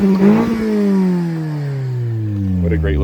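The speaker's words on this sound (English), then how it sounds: "You can hear the exhaust real quick." A stock-exhaust 2012 Fiat 500 Prima Edizione revs up loudly and close, its engine note climbing and then sliding down in a long falling sweep, with a voice briefly heard near the start.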